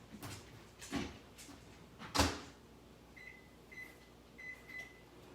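Microwave oven cooking a lasagna, faint steady hum under a few clunks and a door-like thump, followed by three short high beeps spaced about a second apart.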